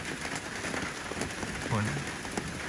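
Storm rain falls steadily in a continuous, dense patter, with a person talking over it.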